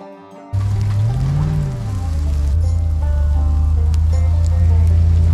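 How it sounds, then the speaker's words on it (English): Pouring rain drumming steadily near a running excavator on a hillside work site, its engine droning and rising in pitch before settling into a constant hum under the downpour. "Pouring rain."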